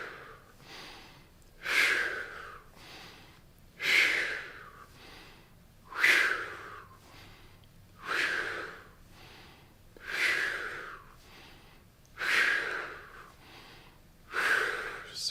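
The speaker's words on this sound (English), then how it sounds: "Deep breath in through your nose" Slow, deep breathing, drawing air in through the nose and releasing it through the mouth during a posture exercise, seven even breaths about two seconds apart, each a close, airy rush that swells and fades, with no talking.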